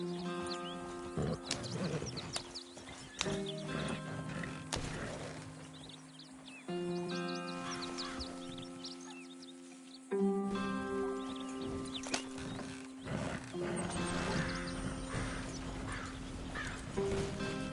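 Horses in the video game Red Dead Redemption 2 clop and whinny amid layered game sound, with hooves and animal calls recurring through a busy, continuous mix.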